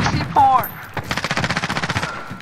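A rapid burst of automatic gunfire rattles in the shooter game Modern Warfare, about a dozen evenly spaced close shots following a short electronic tone and thud.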